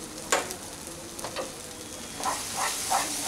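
Gathi kochu (taro) paste with salt and turmeric is stirred in hot oil, giving a steady low sizzle broken by several short scraping strokes of the spatula, close and moderately loud.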